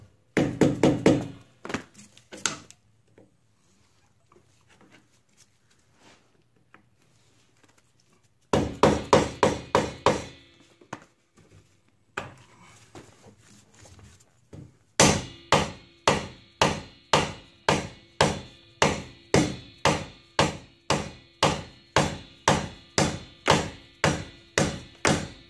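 A screwdriver is worked against a stubborn trailer wheel bearing, giving short bursts of sharp metallic knocks, then a long, even run of rhythmic strikes near the end, with quiet gaps between the bursts.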